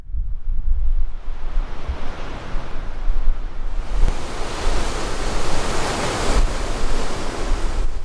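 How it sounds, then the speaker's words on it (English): Strong wind buffets the microphone on a coastal hilltop at Soberanes Point, Big Sur, a loud, constant roaring rush that swells and gusts throughout. "I'm holding the camera with two hands because it's windy."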